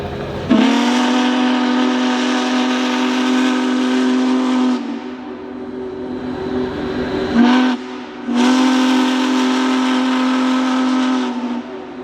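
Union Pacific 4014, a 4-8-8-4 Big Boy steam locomotive built by Alco in 1941, sounds its deep chime whistle in two long, loud blasts separated by a short lull, with a brief toot between them and steady rumbling steam and rail noise underneath.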